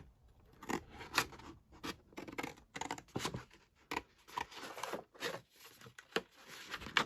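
Scissors snip through old book pages in repeated crisp cuts, close and fairly quiet, with short pauses between strokes and no talking.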